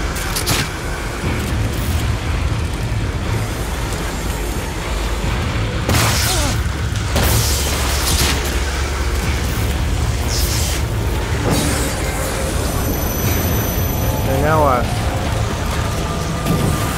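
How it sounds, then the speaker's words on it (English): An incendiary bomb goes off in the survival horror game The Evil Within, giving a few sharp bursts and a steady roaring burn under game noise, with a voice talking over parts of it. "Oh, my incendiary bomb, no."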